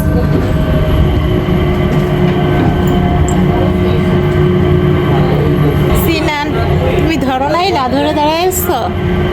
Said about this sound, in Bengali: এক টার্মিনাল থেকে আর এক টার্মিনালের ডিস্টেন্স অনেক বেশি এই জন্য এই মেলো ট্রেনের ব্যবস্থা করা হয়েছে